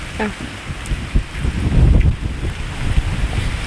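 Gusty wind buffets the microphone outdoors during a grilling session of a large salt-crusted fish, with rumbling low roar that swells and eases, while people talk faintly underneath.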